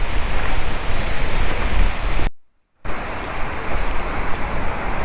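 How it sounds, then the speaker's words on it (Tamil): Ekayam waterfall in Idukki during the monsoon roars as a steady, loud broadband rush of falling water, briefly cutting out once before resuming unchanged. "இதுதான் எக்கயம் வாட்டர் ஃபால்ஸ்."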